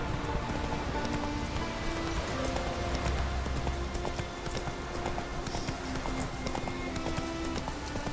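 Roach, the horse in The Witcher 3, gallops in a fast, steady clip-clop of hooves, close and loud, over a constant bed of game ambience and faint music tones.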